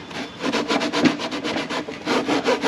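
Plastic burrs and shavings being filed or rasped off a part on a 2007 Silverado 3500 6.6 diesel, a close, steady run of rough back-and-forth scraping strokes with no talking.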